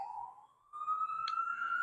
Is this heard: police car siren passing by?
yes